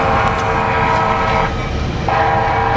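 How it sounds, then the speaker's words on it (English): A loud, steady pre-programmed train horn blares from speakers with a harmonic chord over rumbling rail noise, dipping briefly before resuming, in Tacoma. "They just have this pre-programmed train whistle."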